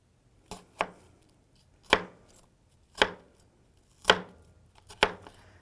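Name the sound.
knife chopping onion into strips on a board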